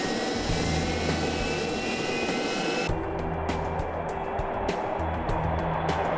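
A full-scale test aircraft flying, a loud continuous engine roar with a steady droning hum, its tone shifting partway through as other mechanical tones join.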